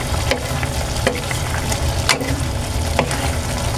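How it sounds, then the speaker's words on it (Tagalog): Beef caldereta with caldereta mix stirred in a frying pan: steady close sizzle and frying hiss with a few scraping utensil strokes against the pan, no voices. "Haluin natin."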